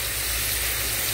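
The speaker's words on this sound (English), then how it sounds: "And they're sizzling. And that's what you want them to do." Green beans sizzling in a pan as their liquid cooks off before glazing, a steady broadband hiss with a low hum underneath, close and continuous without talk.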